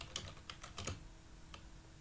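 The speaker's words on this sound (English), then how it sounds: "you will type the question here" Keys tapped on a computer keyboard while entering a test question, a short irregular burst of several clicks followed by a pause and one more press, close and quiet with no speech.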